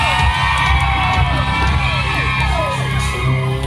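A crowd of fans cheers and shouts loudly at a birthday fan meeting, with high excited voices and whoops overlapping in a sustained, energetic roar.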